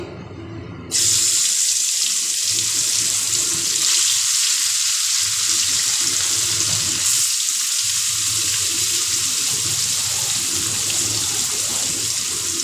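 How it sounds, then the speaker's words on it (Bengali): A loud, steady hiss of fish frying in hot oil begins abruptly and continues evenly, close and dense with crackle. "এবার মাছগুলোকে আমি ভাজা করে নিই"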